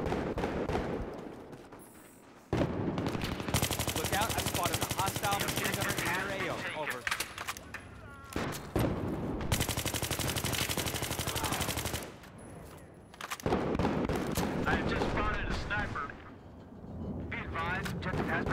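Sustained bursts of machine gun fire in Battlefield 3 on PC, loud and dense, broken by brief lulls between long volleys, with battlefield noise and a voice speaking underneath.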